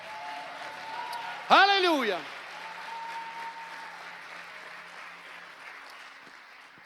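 A church congregation claps through a worship service, steady dense applause with a single voice shouting briefly over it near the start, then the clapping carries on and slowly fades.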